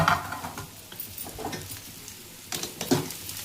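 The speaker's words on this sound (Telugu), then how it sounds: "బాగా కలుపుకోవాలి." Spices, salt and chilli get stirred into food frying in a pan, Vijayawada style, with scraping and sizzling strokes that come in bursts, close by and with no talk.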